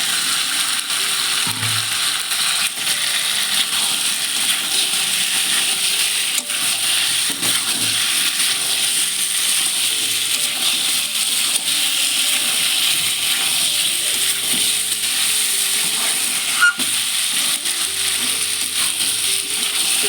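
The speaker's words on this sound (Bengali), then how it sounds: "দেখো এখন আমি মাংসটা কষিয়ে নিচ্ছি" Meat and potatoes fry in a pan with a steady, hissing sizzle that stays loud and even for about twenty seconds, broken only by faint clinks of stirring, with no voices.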